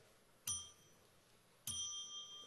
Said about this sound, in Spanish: Está ronco hoy el timbre